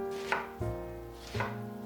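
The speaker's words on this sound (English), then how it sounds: "we're cutting up some mushrooms, some garlic, and some cabbage." A knife strikes a cutting board a few times in slow, uneven chops of mushrooms, garlic and cabbage, close by, over a steady background hum.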